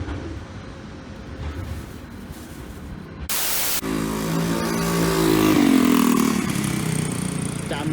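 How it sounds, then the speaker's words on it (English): Motorbike-like engine of a moped on a London street, with a sharp burst at about three seconds followed by a louder rising rev that swells and holds against steady street noise and hiss. "Damn moped, damn bus."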